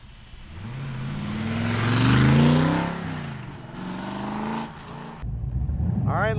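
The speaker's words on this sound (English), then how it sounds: "This little stroker motor is making an oodle of power" A 1965 Cobra GT replica with a stroker engine revving hard, its pitch rising to a loud peak and falling back, followed by a sharp blip of throttle near the end; close and powerful with no talk.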